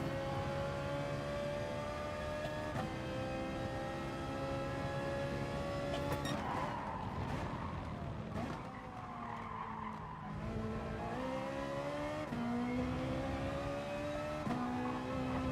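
A Renault Megane race car in GT Sport at racing pace, engine droning steadily through shifting gears with tire skids and squeals, a continuous moderately loud run with no talk.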